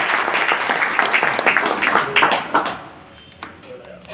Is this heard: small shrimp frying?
no